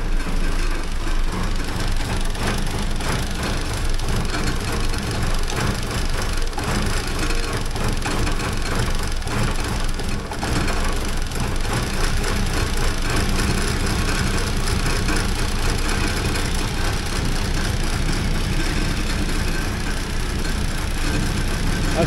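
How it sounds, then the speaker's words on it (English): A 1979 Porsche 924 engine idles low and steady, a continuous rumbling hum with faint knocking, running on its own without voices. "So it's idling pretty low"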